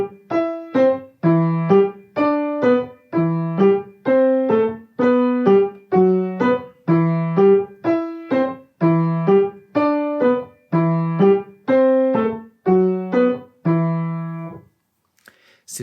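A piano plays a Kabalevsky beginner exercise made of short two-note phrases, each pair clearly separated by a brief lift, in an even, repeating pattern of about fourteen phrases, close and moderately loud with no talking.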